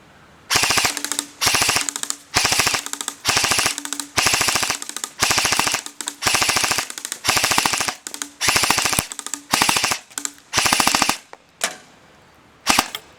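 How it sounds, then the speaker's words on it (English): KWA airsoft gun firing full-auto on a roughly ten-year-old magazine: about eleven rapid bursts, each a tight buzzing string of shots separated by brief pauses, loud and close, with no talking. "Now we're going to do a full auto burst on it."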